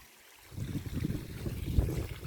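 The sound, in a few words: mountain stream water flowing in the Alps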